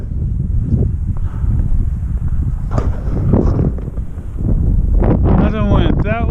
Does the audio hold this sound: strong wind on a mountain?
yes